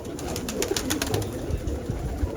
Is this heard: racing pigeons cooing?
yes